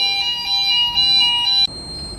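A fire suppression control panel alarm sounds as a steady, loud electronic tone with layered high pitches, then abruptly shifts to a thinner single tone near the end, with no talking.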